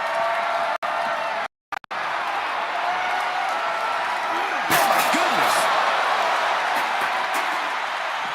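Arena crowd noise in the WWE 2K24 wrestling video game during a casket match, a continuous roar under commentary with a slam-like impact partway through and brief audio dropouts near the start.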